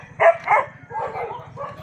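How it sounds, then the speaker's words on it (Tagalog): Several dogs barking near a river spot, two sharp loud barks followed by a rougher stretch of overlapping yaps and growls, fairly close. "Daming aso dito kasi."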